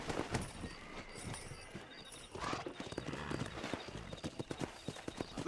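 Horse hooves clip-clop steadily at a riding pace in the video game Red Dead Redemption, a rapid close rhythm of hoofbeats, with a brief whinny-like sound in the middle.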